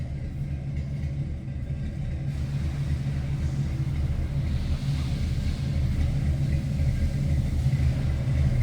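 A 1953 Ford Customline Tudor sedan with a 6-volt system idles steadily, its exhaust giving a low, even rumble that holds at constant loudness throughout, close to the car.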